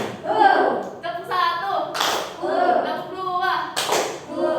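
A class chants a counting cue and answers with sharp group claps in the 'tepuk 1, 2, 3' pattern, the claps landing as a few crisp bursts between the voices.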